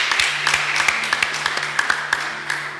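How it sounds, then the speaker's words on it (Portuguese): Church congregation applauds with steady, moderately close clapping of individual hands, sustained over a low held tone. "Merece um aplauso, querido, aleluia."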